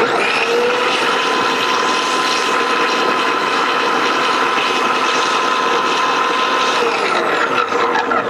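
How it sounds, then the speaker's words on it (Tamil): An electric mixer grinder with a beater attachment whipping eggs runs as a loud, steady motor whine with a constant hum, starting at once and winding down near the end, with no talking. "நான் இப்போ எக் பீட் பண்ணி காமிக்கிறேன்."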